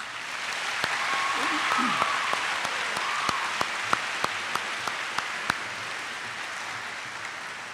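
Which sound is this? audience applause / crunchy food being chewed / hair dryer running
audience applause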